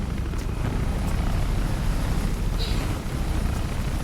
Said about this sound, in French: y a des hélicoptères de journalistes qui nous regardent.